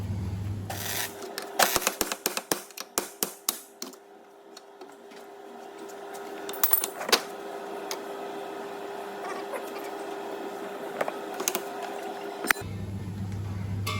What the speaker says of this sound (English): we're just going to knock that out with an hammer now